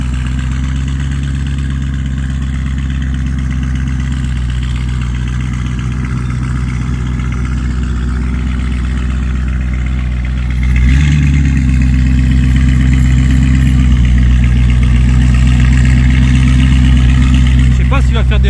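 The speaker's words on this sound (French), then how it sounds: "Le Urus Mansory, enfin il roule. Oh le boucan qu'il fait." A Lamborghini Urus Mansory on a street in Cannes gives a loud, deep engine drone that swells louder about two-thirds of the way in as it pulls away, with people talking nearby.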